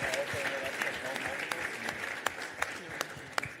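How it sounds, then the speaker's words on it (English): At a school fundraising auction, an audience applauds after a pizza is sold, with steady clapping and a few sharp individual claps, while people talk over it. "Give her a big round of applause."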